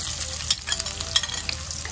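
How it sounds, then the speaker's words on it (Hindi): Chopped onion frying in hot oil in a kadai on a gas stove, a steady close sizzle with soft crackling pops and stirring scrapes throughout, no voices. "अब कटा हुआ प्याज इसमें डालेंगे।"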